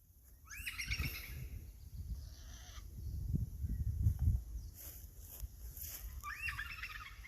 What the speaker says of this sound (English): Habitat and beautiful birds.